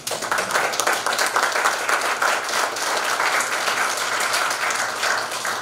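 Steady audience applause after a lecture, a dense, loud wash of many hands clapping that holds evenly for several seconds without a break.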